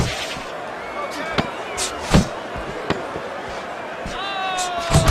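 Several sharp punch impacts thud at irregular intervals in a Fight Night Champion boxing match between Sugar Ray Leonard and Marvin Hagler, close and distinct above an arena crowd murmur while a commentator speaks.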